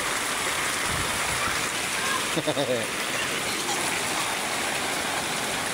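Steady rain falling outdoors in a neighborhood while people shelter from it, a continuous wash of water noise with a voice speaking over it.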